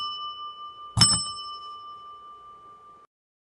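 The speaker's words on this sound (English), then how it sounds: "Have you ever seen a bell like this?" A single bright strike of a small bell, like a bicycle bell, rings out clearly. Its metallic tone hangs and fades for about two seconds before stopping abruptly.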